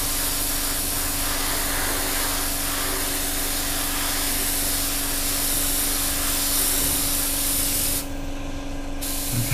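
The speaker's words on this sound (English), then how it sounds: "Okay, and we're just spraying on." An airbrush with a 0.4 needle sprays paint onto the wing of a 1/48 scale Tamiya P-47D or P-51D model aircraft, giving a close, steady hiss of even loudness that cuts off briefly near the end.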